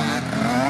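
A Yamaha 450 YZF dirt bike engine revs hard in a brief, loud, steady buzzing roar as it shifts gear, heard close with no break in the engine note.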